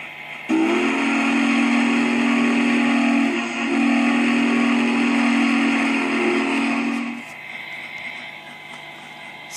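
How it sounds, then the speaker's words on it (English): A loud, sustained steam whistle on a CV&Q USRA 0-8-0 locomotive in the Trainz simulator sounds in one long blast of about seven seconds, with a brief dip partway through, and no one talks over it. "That's a pretty cool whistle."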